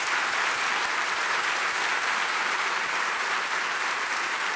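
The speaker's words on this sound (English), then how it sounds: "can we have another round of applause for Spectral Quartet?" A luncheon audience applauds for a string quartet, a continuous, even wash of many hands clapping at moderate volume with no voices over it.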